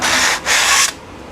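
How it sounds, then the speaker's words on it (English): Two short, hissing strokes of sandpaper drag across a 3D printed RC F-35B jet wing part on a flat sanding surface, close up, with a brief gap between them before it goes quiet. "Let's give it a flat sanding surface."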